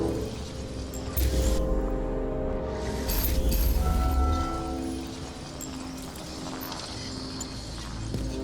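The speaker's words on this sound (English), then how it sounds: "Horses? No, Pegasi." Hooves of pegasi clop in a detective video game, a steady rhythmic clatter that swells louder midway and then fades, under a low ambient hum, no speech.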